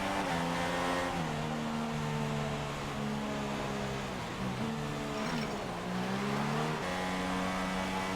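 F1 race cars restart behind the safety car in the F1 2016 video game, with a steady, loud engine drone. The pitch holds and shifts between gear-like steps, as if heard from inside the car.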